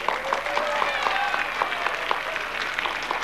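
Audience applause at a poetry recitation prize-giving, steady broadband clapping from a crowd with a few louder individual claps standing out, moderately close and continuous for the whole stretch.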